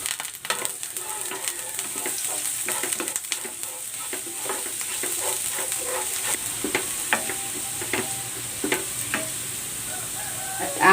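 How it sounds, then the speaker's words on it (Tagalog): Garlic sautéing in hot cooking oil in a home kitchen pan, a steady bright sizzle with frequent light scrapes and clicks of stirring, close and continuous without talk. "Igigisa ko na tong bawang."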